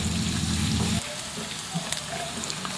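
Garlic sautés in a hot pan, a dense loud sizzle for about a second that drops to a softer, crackling fry with faint stirring.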